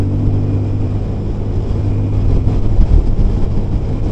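A Yamaha FZ25 motorcycle cruising near 100 km/h just under 7,000 RPM, a loud, steady engine drone mixed with rushing wind, heard from the rider's position, with no talking.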